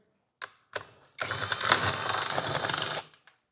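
Bolts come out of the factory upper charge pipe at the intercooler of a 2022 Subaru WRX, with a couple of brief clicks and then a close, continuous ratcheting buzz from a power tool lasting about two seconds.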